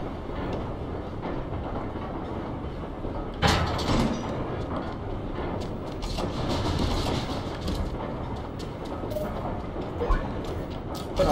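A train car uncoupling in The Escapists 2, a steady rolling rail rumble with a sharp metallic clunk partway through and a few lighter clanks later, no voices.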